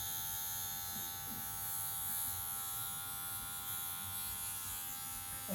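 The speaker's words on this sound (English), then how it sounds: "I'm going to open my clipper all the way up and I'm going to go right below that." Electric hair clippers with the blade opened fully trim a beard line at a barbershop, giving a steady close buzzing hum that runs unbroken throughout without speech.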